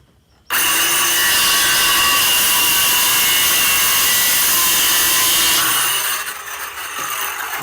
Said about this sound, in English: Go ahead and cut that little piece off.